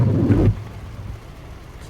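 Thunder rumbles during a thunderstorm, a loud low booming roll in the first half second that fades into a steady wash of rain and low rumble for the rest.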